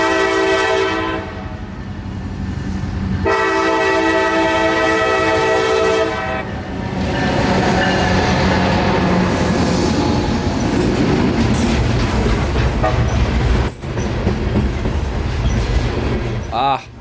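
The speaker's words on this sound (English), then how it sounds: "So off our 13-car train blasts from Bradenton" A 13-car train pulls out of Bradenton near the Big Manatee River drawbridge, its horn blasting in long loud blows before a heavy rumble of rolling cars, wheel noise and clatter close by.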